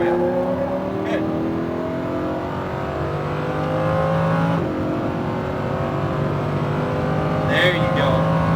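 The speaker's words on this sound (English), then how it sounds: "Point the car, give me throttle all the way up." A Lamborghini Huracan accelerating at full throttle on a track, its engine droning loud and steady with rising harmonic tones, while an instructor talks over the car noise.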